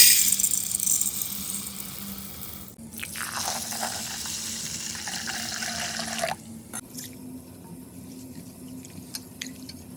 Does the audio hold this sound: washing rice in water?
yes